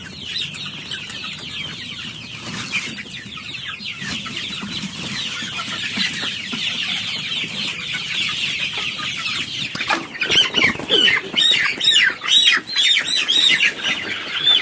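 Free-range village chickens fill a coop of about 200 birds with a dense chorus of clucking and squawks, close and loud, growing busier and more rhythmic toward the end.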